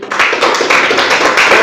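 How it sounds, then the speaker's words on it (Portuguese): A church congregation at a rural worship service claps together, a brisk run of overlapping hand claps, loud and close, holding steady for the short stretch. "Vamos dar uma salva de palmas para o Senhor."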